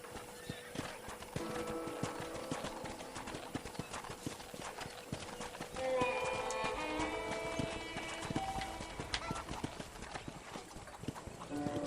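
Horse hooves clip-clopping at a steady walking rhythm in the Western video game Red Dead Redemption, with a brief whinny and faint music and ambience behind.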